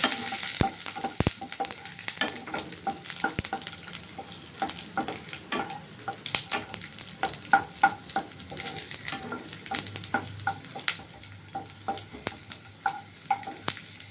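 Greens with garlic frying in oil in a pan, a soft crackling sizzle dotted with many quick stirring taps and scrapes throughout.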